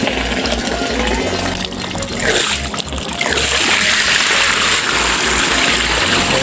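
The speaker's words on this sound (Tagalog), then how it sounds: "na-drain na natin halos lahat ng tubig sa" Water draining out of a concrete tilapia pond, a loud continuous rushing and splashing flow that briefly dips then swells fuller toward the end.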